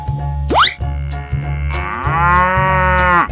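A cartoonish cow in a 3D animal slide video game moos loudly with a long, drawn-out call over a pulsing game soundtrack, preceded by a quick rising boing effect.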